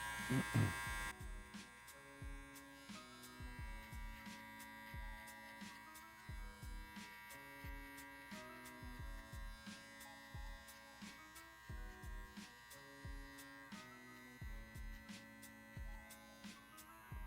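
Electric hair clippers buzz steadily and close while cutting a faux hawk, with a constant mains-like hum. Short rhythmic bursts mark repeated passes through the hair, and a faint voice runs beneath.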